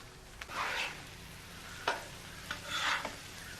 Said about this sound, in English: While that ground beef is browning